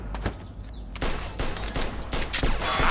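Gunfire in the Mafia II video game, a rapid series of close, loud gunshots in irregular bursts with overlapping reports and a low rumbling background.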